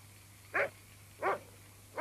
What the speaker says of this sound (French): Ce chien a attrapé un raton laveur.